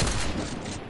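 Gunfire bursts in a Fortnite-style shooter video game, a loud, dense fusillade of shots packed into a single second.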